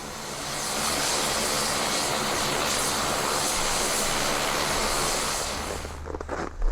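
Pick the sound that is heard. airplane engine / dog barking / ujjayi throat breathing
airplane engine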